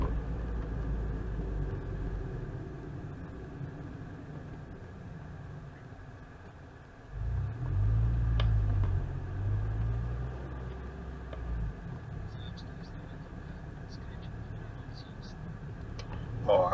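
Steady low rumble of a car driving on a road near Rawa Mazowiecka, heading from a roundabout toward Wrocław, with continuous engine and tyre noise that swells midway, heard from inside the vehicle.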